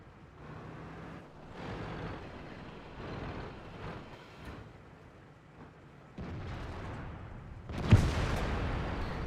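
A KV-2 tank's big gun booms in a World of Tanks battle, one heavy blast arriving near the end with a loud sharp report, preceded by quieter distant rumbles and engine noise.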